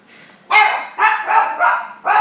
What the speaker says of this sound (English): Came home and Mo had to bark his head off to say hello